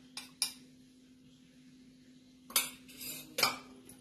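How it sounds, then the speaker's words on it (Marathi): A spoon stirs pakoda batter seasoned with ajwain and baking soda in a bowl, giving a few quiet, separate clinks and scrapes against the bowl with near silence between them. "आता हे मिश्रण चांगलं हलवून घ्यायचं आहे."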